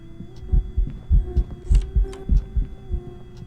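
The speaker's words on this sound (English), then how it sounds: "once it gets close enough that I hear the heartbeat noise" Steady heartbeat thumping from a Phasmophobia ghost hunt, a quick repeating double pulse that stays loud and close over a low hum, with faint high clicks and no talking.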